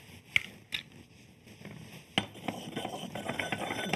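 A utensil works egg yolks and garlic together in a mortar for salad dressing: a few sharp taps and clinks at first, then a soft, steady scraping and stirring, close and quiet.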